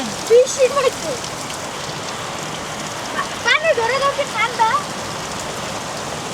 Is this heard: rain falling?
yes